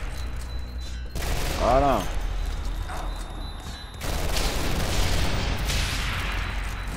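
Mines explode in the shooter Fear 3, heavy booming blasts and rumbling gunfire mixed with in-game effects, loud and close, while someone speaks briefly over the din.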